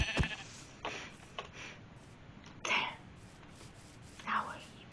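Sheep bleating in the video game Minecraft, a few short nasal bleats spaced through the clip over a low background hum, moderately faint.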